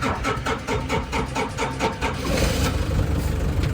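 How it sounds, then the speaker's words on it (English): A forklift engine starting up, cranking in a quick rhythmic churn before settling into a steady, loud idle close by. "I start."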